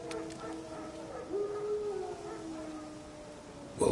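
Wild dogs howl in The Witcher 3, a long rising-and-falling howl drawn out in the middle, moderately loud over a low game ambience, with a short sharp sound at the very end.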